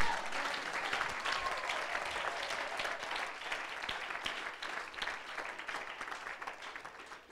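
Church congregation applauding and cheering steadily through a sermon, a dense wash of clapping at moderate level that holds for the whole stretch and eases slightly toward the end.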